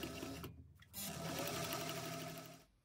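Close, steady sewing machine stitching a bag for a couple of seconds, with a short pause near the start before the motor picks back up.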